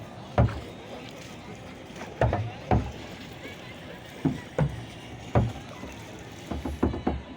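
A wooden rowboat rocks on the water during a night ride at Diyabari, giving irregular hollow knocks and thumps, some in quick pairs, over a low steady background hum.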